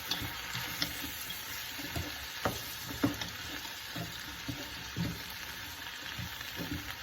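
Vegetables sautéing in oil as a soffritto base for Italian vegetable soup, a constant soft sizzle broken by scattered clacks and scrapes of stirring.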